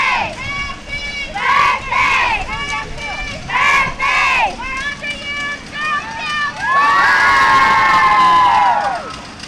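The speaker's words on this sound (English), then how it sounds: "And they know how to cheer." A Girl Scouts group cheers at a community fire muster parade, bursts of high children's shouts and whoops rising and falling, then a louder sustained cheer near the end, close and lively.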